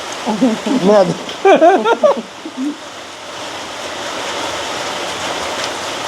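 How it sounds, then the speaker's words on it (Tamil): Rain with wind-blown drizzle falls in a rural village, a steady hissing wash that carries on evenly after a voice speaks briefly at the start. "மழை வந்து கொஞ்சம் சாரல் அடிச்சு கொண்டு இருக்கேன்னா"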